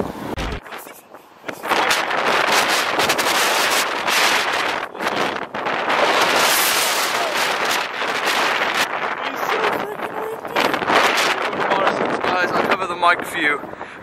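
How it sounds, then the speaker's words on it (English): Loud, gusty wind buffeting the microphone, rumbling and roaring in uneven bursts, with someone talking underneath. "this is an example of how windy it is right now."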